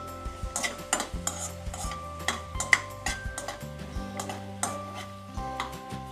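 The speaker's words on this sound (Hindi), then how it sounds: "इसी समय हम काजू डाल देंगे, थोड़ा देर चलाएंगे।" A spoon stirs cashews in a pan on medium flame while making butter paneer, giving a close run of irregular scraping clinks and taps over a faint sizzle, with no talk.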